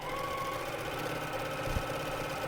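Sewing machine running steadily while stitching a zippered salvage purse, a close continuous mechanical hum with a faint rhythmic knock, alone without talk.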